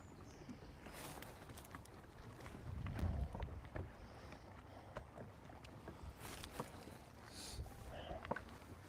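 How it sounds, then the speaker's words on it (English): A boat passing on open water while fishing, a steady low engine and hull wash rumbling in the background with wind across the microphone and no talk. "a boat would cut in front of me when they could easily go around and not be in my way"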